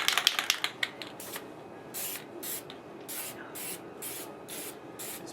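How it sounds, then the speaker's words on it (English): Aerosol spray paint can hissing camo paint onto a rifle, a quick run of short rattling bursts followed by longer close hissing sprays alone. "This spray paint kind of sucks."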